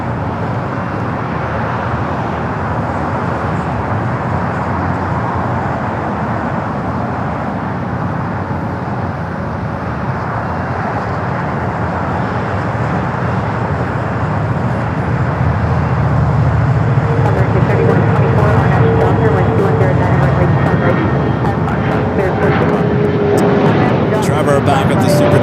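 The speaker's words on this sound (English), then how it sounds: "we got the China Eastern 777 marching down to 25 right" A China Eastern Boeing 777 rolls down runway 25 right at a large airport, its broad, loud jet roar building steadily and filling the scene, with a voice talking over it.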